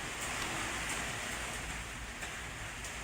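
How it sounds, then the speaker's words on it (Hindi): Steady rain falls in Poonch, Jammu and Kashmir, a dense, even hiss of drops on surfaces that holds at constant loudness throughout, with no voices or other sounds. "जम्मू कश्मीर में बारिश आप देख सकते हैं तस्वीरों में"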